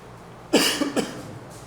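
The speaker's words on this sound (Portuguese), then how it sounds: "vocês vão ter que conviver um pouquinho com a minha tosse ainda" A man at the tail of a flu coughs during a Sunday church sermon, giving two or three harsh, close bursts in quick succession, then falling to quiet room tone.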